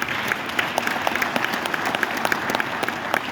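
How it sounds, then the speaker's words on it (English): Applause from an auction audience at a fundraising event, a dense steady patter of many hands clapping together for the whole stretch, moderately close and without speech. "So good round of applause for them too."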